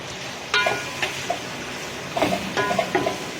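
Onions fry in oil in a pot for Sindhi biryani, a steady sizzle under a few stirring scrapes and light clinks of a spoon against the pan.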